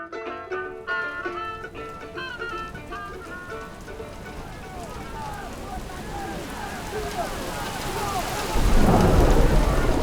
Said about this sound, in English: The rain has picked up again.